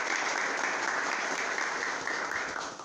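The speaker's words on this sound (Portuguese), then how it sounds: "Palmas para ela, pessoal." An audience at a religious festival gathering claps in dense, even applause that holds steady, then eases slightly toward the end, with no talking.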